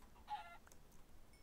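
A short burst of clucking from a chicken in a video game, faint and somewhat synthetic, over a low steady background hum, followed by quieter scattered noises.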